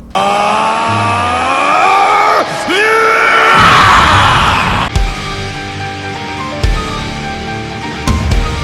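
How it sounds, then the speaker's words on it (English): Animated character Vegeta lets out a long, loud, strained scream that rises and wavers for several seconds, followed by booming impacts and rumbling blasts, with no ordinary speech. "As Vegeta went and he screamed."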